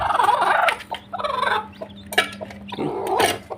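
Hen with a fresh brood of newly hatched chicks, a cluster of clucks and gobble-like calls rising and falling close by over a steady low hum, with no talking.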